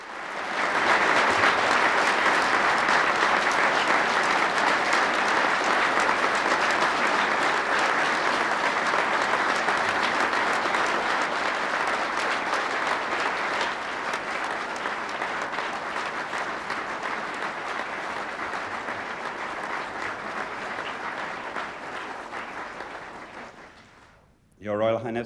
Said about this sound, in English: And they burst into thunderous applause.